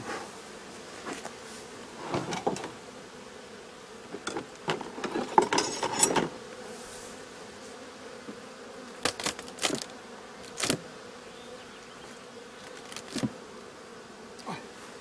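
Honeybees drone in a low continuous buzz at a hive throughout, with scattered wooden knocks and scraping handling sounds up close.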